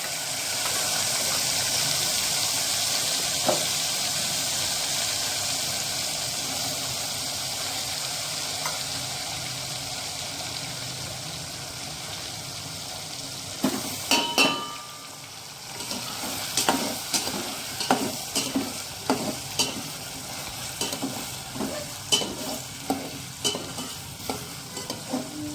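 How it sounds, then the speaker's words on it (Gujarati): Spices and asafoetida are tempered in hot oil for a village-style drumstick sabzi. A steady close sizzle comes first, then a spoon stirs with clinks and scrapes while the frying keeps hissing underneath. "હવે મસાલો ને હિંગ એડ કરી દઈએ અને સીંધું વઘારી નાખીએ"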